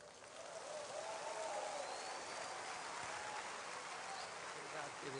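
Audience applause welcoming pastor Cláudio Duarte at a church gathering, a steady wash of clapping from a crowd that rises in the first second and holds fairly evenly, somewhat distant and diffuse, with faint voices mixed in.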